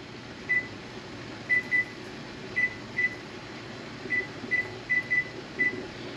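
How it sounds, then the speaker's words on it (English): Microwave buttons are pressed, producing a series of short electronic beeps, some single and some in quick pairs, over a low background hum. "Yes, I'm using the timer on the microwave."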